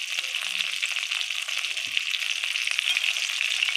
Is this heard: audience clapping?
no